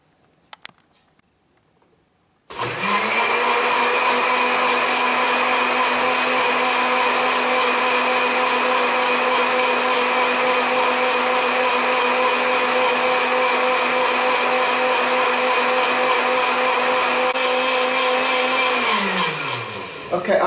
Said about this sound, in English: I'm going to blend the leaves with about